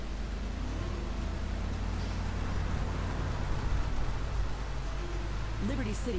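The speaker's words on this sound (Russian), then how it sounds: "какой дождь красивый" Steady rain hisses in Liberty City in GTA 3 Definitive Edition, a dense, constant wash of drops with a low rumble underneath and a brief voice near the end.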